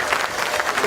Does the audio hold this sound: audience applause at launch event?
yes